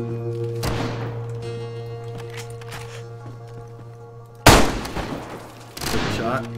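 Gunfire in the video game DayZ, two sharp loud gunshot bursts with trailing echo amid a steady game hum, heard close with voices in between.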